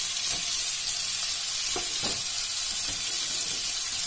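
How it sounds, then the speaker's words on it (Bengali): Chopped onions and chicken frying in a pan, a loud, constant sizzle with a few soft scrapes of stirring breaking through. "খানিকক্ষণ ফ্রাই হয়ে যাওয়ার পরে এর মধ্যে পেঁয়াজ কুচি দিয়ে দেবো।"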